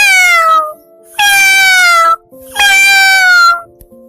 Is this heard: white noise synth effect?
no